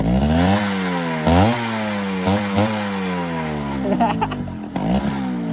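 A Yamaha RX135 two-stroke motorcycle revs hard near the microphone, its muffler note climbing and falling in repeated throttle sweeps, a loud buzzing whine that rises in pitch across each blip.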